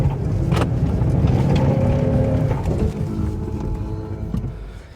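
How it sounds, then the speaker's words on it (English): A Jeep Gladiator on Cooper STT Pro 295/70R17 tires, locked in first gear and four-wheel high with traction control off, roars steadily at full throttle, close and loud, before easing slightly at the end. "I'm just gonna lock it in first gear, four-wheel high, and put it to the floor"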